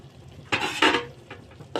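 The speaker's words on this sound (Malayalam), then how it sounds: "ഇത്രയും നമുക്കൊന്ന് നല്ലപോലെ ഒന്ന് ഇളക്കി." A spoon stirs asafoetida powder through a cooking pan, giving a few soft scraping strokes close by with quiet pauses between them.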